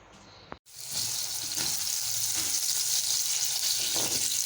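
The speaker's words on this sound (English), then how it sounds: "I'm cooking my onion. I'll let it turn golden brown." Onions fry in a pan as a pizza topping, a steady loud hiss after a brief clatter at the start, sizzling continuously without talk.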